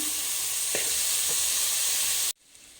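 Soaked soybeans fry in a hot pan with a loud, steady sizzle and a few scraping stirs, then the sizzling cuts off abruptly near the end, leaving a quieter hiss.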